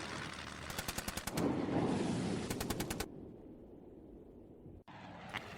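Two rapid bursts of machine-gun fire rattle out over a rumbling engine drone, followed by quieter background noise and a faint distant burst.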